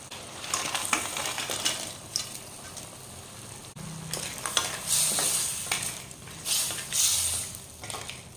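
Crab sizzles steadily in hot masala in a pan as it is stirred, with scraping and occasional clinks of a utensil close by.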